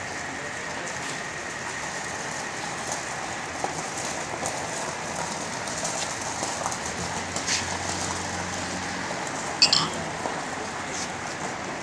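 Steady rain falls at a hotel in Swat, Pakistan, a dense even hiss throughout, with a few faint knocks and a brief sharper sound near the end.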